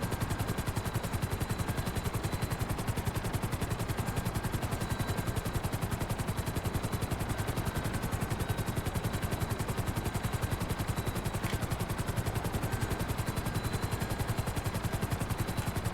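Sustained rapid chain gun fire in GTA Online during the Cayo Perico heist, a dense continuous mechanical rattle of gunfire running loud and steady throughout with no pauses.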